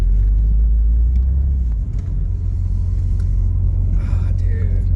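A 1985 Pontiac Fiero GT with a V6, run after sitting for years, drives along with a deep, loud, steady engine rumble heard from inside the car, while people talk over it.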